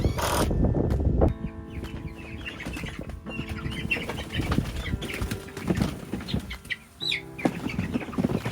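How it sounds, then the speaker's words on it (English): Newly moved meat chickens cluck and flap their wings outdoors on pasture, with a dense, steady flock chatter close by and bursts of wingbeats. "we've got all the new chickens outside"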